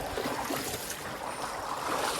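A large flow of stream water rushes at a water mill, making a dense, continuous broadband wash that is close and steady, with no voices.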